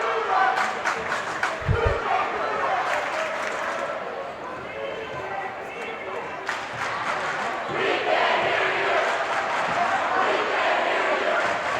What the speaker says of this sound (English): And the crowd chants begin, each side taunting each other.